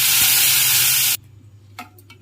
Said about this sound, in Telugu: పోపు వేసుకుందాం